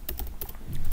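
A few quick keystrokes clatter on a computer keyboard as text is typed into a file, close and clear in a quiet room.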